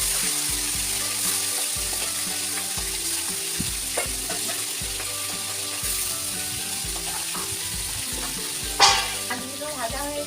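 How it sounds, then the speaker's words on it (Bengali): Small river fish sizzle steadily in hot oil in a home kitchen, with occasional clatter from stirring and a distant dog barking faintly. "মাছগুলো ভাজা হয়ে এসেছে, তুলে নেব।"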